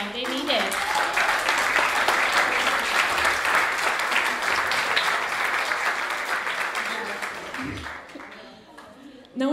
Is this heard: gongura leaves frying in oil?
no